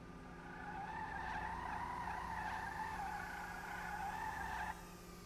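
A continuous high tire squeal from an Obey I-Wagen skidding in GTA Online, holding steady for several seconds before cutting off abruptly near the end, with engine rumble underneath.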